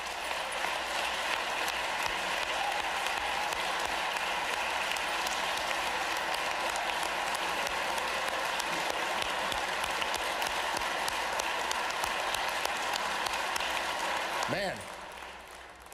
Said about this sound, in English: if applause could vote, we'd have this whole thing done already